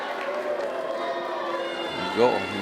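Wrestling arena crowd at a championship wrestling show giving a mixed reaction, a dense roar of cheers and shouts with a brief louder swell near the end, under a commentator's voice.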